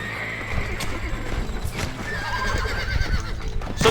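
Horses in a desert-set video game neigh and whinny several times over clip-clopping hooves, with game ambience in the background and no talk.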